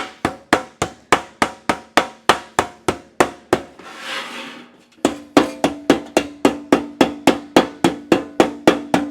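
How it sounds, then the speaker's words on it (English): Steady, rapid metallic hammer blows on sheet metal ring out close by while forming an HVAC duct elbow, pausing briefly midway before the regular striking resumes. "Hopefully you can hear me over the sound of the guy with the hammer."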